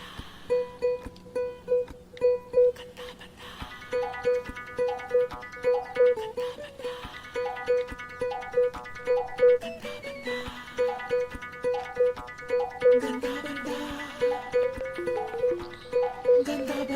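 Mobile phone ringing with an incoming call, a repeating electronic melodic ringtone pattern that loops steadily and fairly loudly, with no talking.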